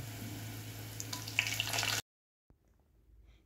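Curry leaves and whole spices sizzle in hot oil for a masale bhaat with green chickpeas, a close, bright crackle for about two seconds before cutting to near silence with faint stirring.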